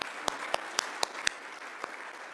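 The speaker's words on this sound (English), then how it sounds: "please give them a round of applause." Several sharp, separate claps ring out one by one at a National Gun Violence Awareness Day vigil, fairly faint against a quiet background with no talking.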